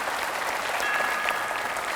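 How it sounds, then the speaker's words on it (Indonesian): Brief steady applause from a studio audience on a televised talk show, an even, moderately loud patter of many hands with a faint tonal whine underneath. "Kita kasih tepuk tangan Ferry Juliantono, 60 detik untuk Anda."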